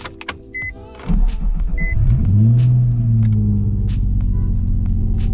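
A Nissan 350z cold starts with a sharp crank and catch, then settles into a loud, steady idle rumble with falling rev tones. A few short power-window motor whirs come just before it.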